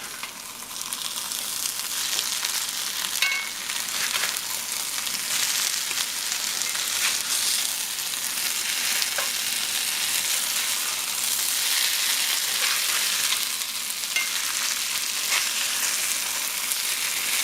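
Corned beef and cabbage hash frying in a cast iron skillet, a steady loud hiss and crackle of sizzling fat with occasional scraping as portions are flipped with a spatula.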